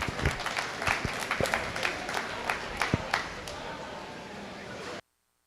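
A crowd applauds at a sheep show, with continuous clapping of moderate loudness and a few sharper nearby claps, lasting about five seconds before cutting off abruptly.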